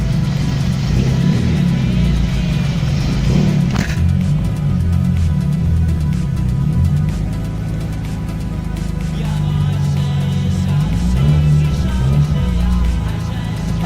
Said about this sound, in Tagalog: naririnig nyo naman, maandar na yung makina